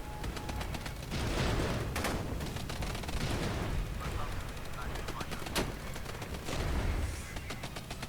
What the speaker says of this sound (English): This is really close with the artillery.